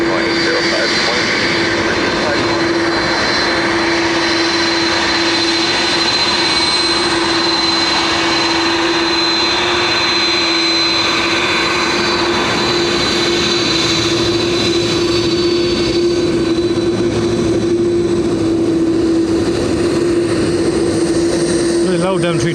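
Airbus A330 jet engines at Dublin airport give a loud, steady roar with a piercing high whine that holds for over twenty seconds, with talk faint underneath.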